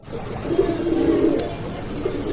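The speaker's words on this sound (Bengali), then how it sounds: "কবুতরের এই জোড়াটির ডাক একদমই মার্শাল্লাহ উড়াদুরা ডাক" A pair of Kagzi pigeons coo in a low, rolling murmur close by, steady for a couple of seconds against faint background noise.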